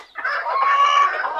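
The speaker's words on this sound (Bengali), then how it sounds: "এই মুরগিটা আজকে মনে হয় ডিম দেবে এর আগে কখনো ডিম দেয়নি আজকে ডাকাডাকি করতেছে ডিম দেওয়ার জন্য" A mottled cochin frizzle bantam hen clucks in a steady, drawn-out run of calls before laying, close and clear with no talk.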